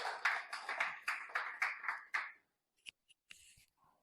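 Quiet, evenly paced hand claps at a business talk as the next speaker is called up, about eight crisp claps in a row. They stop abruptly, leaving a few faint taps and small knocks in near silence.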